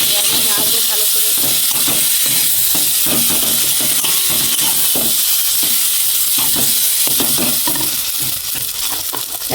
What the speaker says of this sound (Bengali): বন্ধুরা দেখুন, আমার কড়ার তেলটা গরম হয়ে গেছে। আমি এবার ডালটা দিয়ে দেবো।